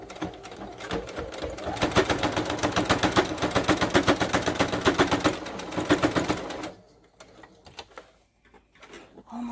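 A sewing machine rapidly stitches a fabric face mask, a fast rhythmic chatter of needle strokes running loud and close for several seconds before stopping abruptly, followed by a few faint handling clicks.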